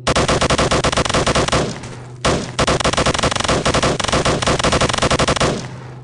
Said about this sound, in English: For starters, it has a machine gun.